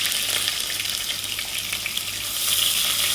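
Onions frying in a pan for a kebab biryani, giving a steady, close sizzle with fine crackling that swells slightly toward the end.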